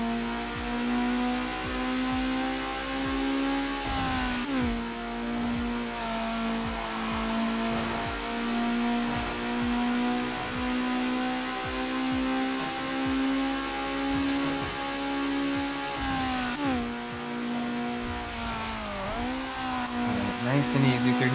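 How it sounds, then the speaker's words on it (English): A Mazda Miata in the Need For Speed Underground racing game drones with a steady, loud engine note throughout, its pitch shifting at gear changes around the fifth, seventeenth and nineteenth seconds, with occasional speech over it. "Oh, the sound of this car is beautiful as well."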